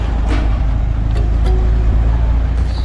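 A single car passes along a quiet residential street in Matanzas, Cuba, a steady low engine rumble close by under faint distant sounds, with no one talking.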